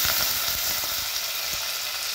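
Dried red chilies frying in a pan of hot oil, a steady bright sizzle with a few soft stirring taps underneath, close and fairly quiet.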